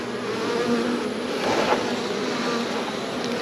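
Honey bees drone steadily from an opened wooden hive box during a hive check, a dense, continuous buzz close by with no talk over it.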